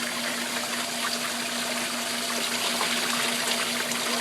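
Steady broadband rush of water from a shower head fed by a pump, continuous and fairly loud, with a faint constant hum underneath and no voices.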